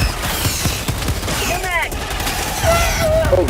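Rapid gunfire in the video game Helldivers 2, dense crackling bursts and whizzing effects amid game noise, with voices talking over it.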